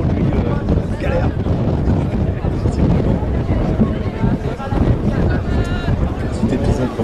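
Strong wind buffets the microphone during a sailing race on the water, a continuous loud rumbling roar with a voice talking faintly underneath.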